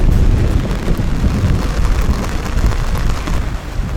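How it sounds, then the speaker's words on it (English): Steady, dense rain falling, a continuous broadband wash with no clear individual drops, loud and close throughout with no voices. "we hurried back to Sofia, just in time as the rain started to fall"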